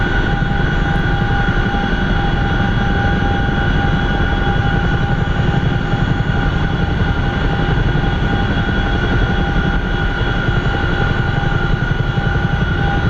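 Cockpit view of a CH-47F Chinook heavy-lift helicopter in DCS World cruising toward Camp Bastion, a loud, constant droning rotor and turbine roar with fast rhythmic blade thumping and steady high whine, unbroken throughout.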